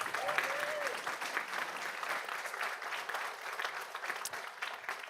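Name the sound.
audience applause for a coach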